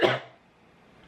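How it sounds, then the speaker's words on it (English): A single short cough, close and fairly loud, fading into near silence. "even though I'm still coughing"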